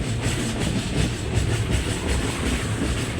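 Mandovi Express passenger train running near Chiplun on the Mumbai to Kudal route, a steady rumbling rattle of coaches with faint clickety-clack, heard from inside the carriage with no talking.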